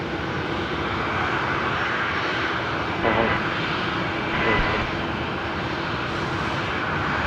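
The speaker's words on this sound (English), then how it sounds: "737-700 today, the velocity 1227 service. They're arriving from Canberra." Boeing 737-700 jet arriving at Brisbane Airport at night, heard as a steady broad engine roar that swells slightly as it passes, with faint voices underneath.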